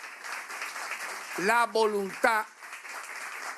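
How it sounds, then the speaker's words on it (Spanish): Audience applause at a Venezuelan political address in Caracas: a steady wash of clapping runs throughout, with a voice rising briefly in the middle. "eso también merece un fuerte aplauso"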